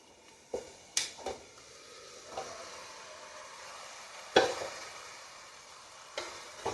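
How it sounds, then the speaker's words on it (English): Mutton goes into a pan of frying masala and is stirred, with a faint background sizzle broken by a few scattered scrapes and clatters of the spoon against the pan. "So I am going to add this mutton."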